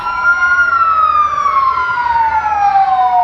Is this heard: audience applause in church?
no